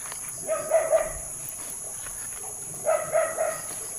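A dog barks in two short bursts of three or four yaps each, somewhat distant, by a balete tree, over a steady background hum.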